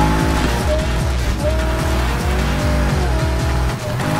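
A Chevrolet Camaro Z28 drifting in the racing game Need for Speed Heat, its engine revving loud and continuous with repeated gear-shift pitch drops and tire squeal, under a backing music track.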